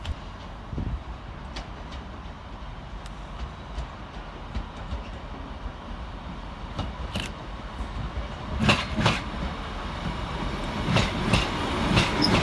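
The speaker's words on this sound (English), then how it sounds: "Next train out to depart is 156426 and 15133 with the 1721 Northern service through to Buxton." A Northern class 156 diesel unit, 156426 coupled with another, pulls out of Manchester Piccadilly on a service to Buxton, a steady low rumble of engine and wheels with rising clatter and a few sharp squeals and clicks toward the end.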